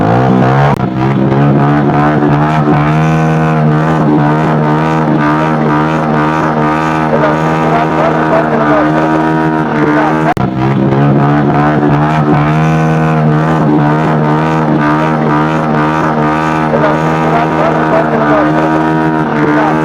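An illegal, very loud horn fitted to a motorcycle blares on a town street, a harsh multi-tone wail held almost continuously for about twenty seconds with one brief break midway.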